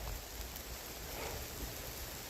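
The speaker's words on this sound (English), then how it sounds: "Right now, I got rain. Oh, lots of rain on me." Rain falls during a mountain hike near a historic hydroelectric plant, a soft, even hiss of drops heard faintly and continuously with no voices.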